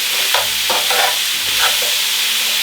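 Garlic and vegetables fry in a pan, a loud steady sizzle broken by several scraping strokes of the stir as the mixture is turned and caramelises.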